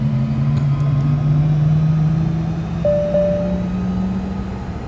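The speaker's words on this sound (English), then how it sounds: "get the aircraft started" Aircraft engine spooling up at startup in Microsoft Flight Simulator 2024, a steady low droning hum with a rising tone, joined briefly by a high whine midway, constant and close throughout.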